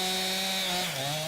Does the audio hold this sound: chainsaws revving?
yes